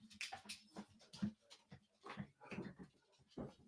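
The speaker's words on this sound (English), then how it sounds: "He's a Rhodesian Ridgeback, Fred." A Rhodesian Ridgeback dog pants in quick, uneven breathy bursts mixed with soft whimpers, close by but fairly quiet indoors, with no one speaking.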